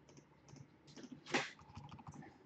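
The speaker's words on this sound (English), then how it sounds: "I'm left mouse clicking here." A few faint, sharp computer mouse clicks sound in a quiet room, with one slightly louder click near the end.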